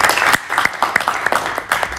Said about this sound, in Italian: e anche un applauso per lui